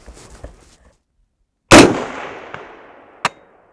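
Rifle shots fired at steel targets at around 200 yards with a KP-15 carrying a Ballistic Advantage upper: one loud, sharp report with a long decaying echo, then a faint, distant ping of the target and a second sharp crack, with no talking.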